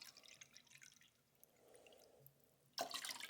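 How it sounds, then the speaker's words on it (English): Cold water is poured from a mug into a measuring cup, starting as soft dribbles and trickles, then ending in a brief louder splash. "I'm going to pour that into a measuring cup"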